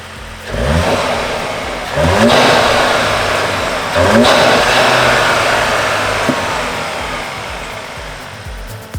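An Audi S3 (8Y) engine with an Eventuri carbon cold air intake revs hard three times in quick succession on a dyno, each rising whoosh and roar followed by a sustained loud idle with intake hiss.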